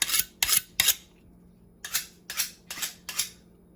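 A dull kitchen knife is sharpened with seven quick, crisp scraping strokes, three in a fast run, a short pause, then four more, each a bright close rasp of steel.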